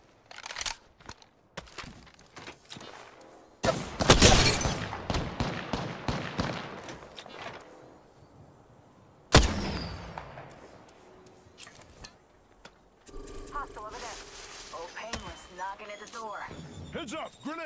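Gunfire in a shooter video game, with scattered sharp shots, a loud burst of rapid fire, a single heavy crack midway and clattering effects, while voices talk over parts of it.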